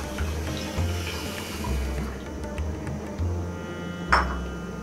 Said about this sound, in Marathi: त्यात पाणी घालणार आहोत.